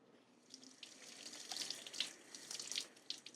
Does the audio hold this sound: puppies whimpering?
no